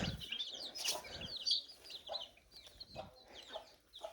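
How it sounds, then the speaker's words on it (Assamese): Local chickens cluck and chirp in short, scattered calls at close range, fairly faint and with no one talking. "এইফালে হ'ল লোকেল মুৰ্গী চাওক"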